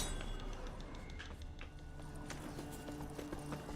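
Hooves of Roach, a horse in the video game Witcher 3, clop steadily in a muffled, even rhythm over a dense game soundscape, moderately close with no talking.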